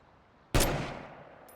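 One loud, sharp gunshot in the video game State of Decay 2 cracks suddenly and then decays with a lingering echo, preceded by a quiet hum.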